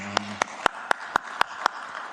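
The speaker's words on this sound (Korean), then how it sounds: "우리 박수하겠습니다" Clapping during a Korean church Sunday worship service, a few sharp evenly spaced claps about a quarter second apart, following a fading low tone.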